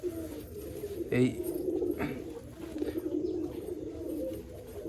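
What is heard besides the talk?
pigeon cooing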